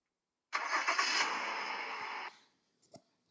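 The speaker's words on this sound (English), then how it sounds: "I didn't mention that you can actually start the engine." A Honda car's engine starting after its security was hacked: a steady, close whirring burst of about two seconds that stops abruptly, followed by a couple of faint clicks.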